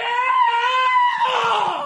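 A voice imitates a high, strained yell of pain, one sustained wavering scream lasting almost two seconds, loud and close.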